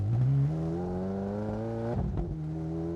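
A Ferrari 430 Scuderia GT3 race car engine revs in first gear, a loud harmonic whine that climbs slowly, then roughens briefly before settling at a steady pitch.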